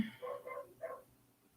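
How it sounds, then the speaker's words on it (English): A puppy gives three quick, high yips in a row, fairly faint, followed by quiet. "Sorry if you hear that dog. It's our neighbor's dog. Still a puppy."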